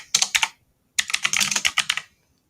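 Rapid clattering keystrokes on a noisy computer keyboard, two close bursts of typing with a brief gap between them and no voices.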